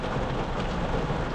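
Heavy rain falls steadily during a storm with tornado warnings and high winds, a dense continuous roar of rain close by with no talk.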